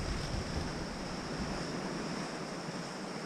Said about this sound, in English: trying to get some minimalist shots of the waves crashing over the